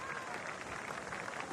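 Crowd applause at Hagley Oval as the New Zealand team leaves the field during a Test match against Australia, faint and steady, a distant patter of clapping that continues throughout.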